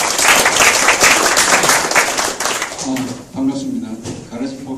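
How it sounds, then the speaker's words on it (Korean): An audience at a Korean startup networking forum bursts into loud, dense applause that fades into someone speaking over the last scattered claps. "박수 한번 부탁드릴게요"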